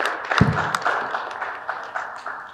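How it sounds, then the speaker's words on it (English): Applause for a speaker at a conference panel session: a burst of clapping that trails off into lighter scattered claps, moderately faint. "A round of applause for her, please."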